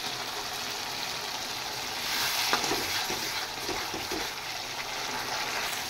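Sugar added to a sizzling pan of cooking food, a steady bright frying hiss that swells briefly with a few soft scrapes and crackles, with no talking.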